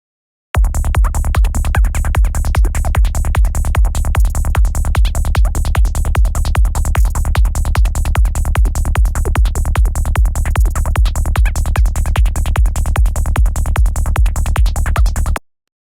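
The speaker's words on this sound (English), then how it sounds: "Today we're going to be taking a look at making these sort of spacious little squelchy" Rapid, evenly pulsing squelchy psytrance synth blips made in Serum repeat steadily for about fifteen seconds, loud and close, with no voices.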